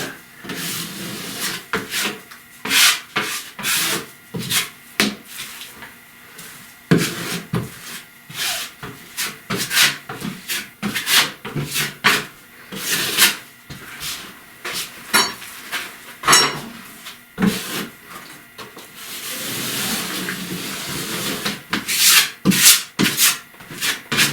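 Rough, scratchy strokes of sanding drywall come close up in irregular bursts, with pauses and light knocks between passes.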